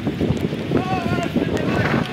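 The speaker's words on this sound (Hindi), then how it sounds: "बहुत जैसे हवा चल रहा है" Gusty wind blows outdoors in the rain at a fair, rushing and buffeting the microphone in a steady roar, with a brief faint whistling tone partway through.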